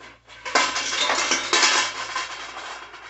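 A small stock pot and four glass canning jars handled for making bread and butter pickles, giving close, loud metallic and glassy clatter and clinks that run on continuously, with no talking.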